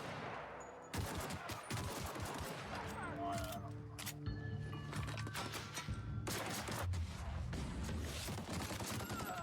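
Rapid gunfire bursts and single shots crack through a hardcore combat encounter in The Outer Worlds, with fusillades close and loud, interspersed with brief gaps and a voice talking over the action.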